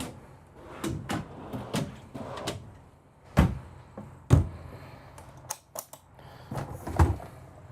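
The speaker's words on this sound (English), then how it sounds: "down below you've got 2 big drawers for the pantry area, full extension drawer glides" Big pantry drawers on full-extension glides in a Renegade Verona 36VSB motorhome being opened and shut, a series of soft sliding rumbles and several sharp thumps and clacks at irregular intervals, fairly close and quiet.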